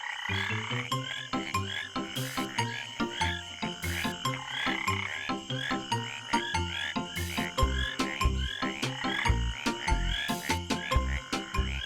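A tree frog croaks in a steady, rapid series of loud, close calls that repeat without pause and stand alone with no voices.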